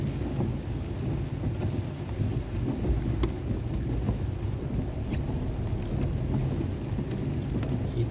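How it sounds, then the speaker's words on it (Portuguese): A thunderstorm with heavy rain in Vacaria, Rio Grande do Sul: steady downpour with low rumbling thunder rolling underneath and a few sharp drips or cracks, no talking. "Que temporal, ó."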